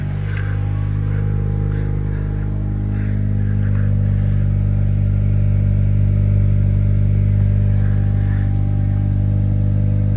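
A 2024 Acura Integra Type S engine idles loud and close with its exhaust valve open, a steady deep drone that swells slightly partway through, with no talking.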